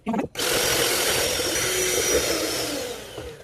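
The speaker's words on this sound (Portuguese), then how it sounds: "E aqui tudo na batedeira, a margarina, o açúcar e a baunilha," Electric hand mixer whirring steadily as it beats margarine, sugar and vanilla into a pale cream, loud and close after a brief start, with no talking.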